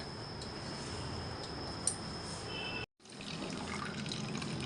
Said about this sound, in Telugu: నీళ్ళు కాసాను గోరువెచ్చగా, అందులో వేసేస్తున్నాను.